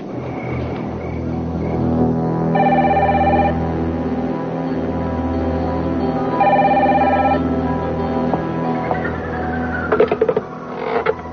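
A telephone rings indoors, two clear repeated bursts of electronic ringing over a running engine-like background hum, then brief clattering near the end.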